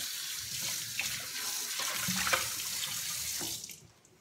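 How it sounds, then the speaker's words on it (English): Tap water runs into a kitchen sink as lettuce gets a quick rinse, a steady close splashing flow with small bumps that stops near the end. "Give it a quick rinse."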